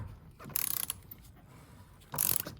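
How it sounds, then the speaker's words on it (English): Two bursts of rapid ratchet clicking as a wrench loosens the oil filter housing on a 2017 BMW F20 118i, close and crisp, with quiet pauses between them. "we can open the oil filter"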